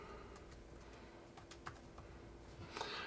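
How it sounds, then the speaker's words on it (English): Keys tapped on a computer keyboard while entering a destination for RV trip routing, a few quick clicks spread across a quiet room with no talking. "So then all I have to do is type in Tulsa."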